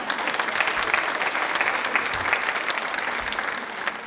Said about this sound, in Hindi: तालियां जोरदार हो जाएं प्लीज।